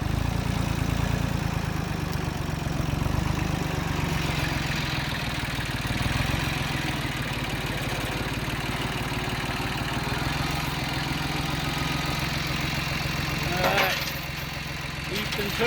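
A tractor engine used for moving pigs runs steadily at a low idle-like rumble, holding a constant level throughout with a brief louder bump near the end.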